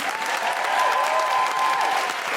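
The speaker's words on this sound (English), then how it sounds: "a huge round of applause for the wonderful Ayesha Hazarika and the fabulous Konnie Huq." Sustained applause from the audience at a live recording of a feminist comedy podcast, a dense and steady wash of clapping that stays loud and even for the whole stretch, with no talk over it.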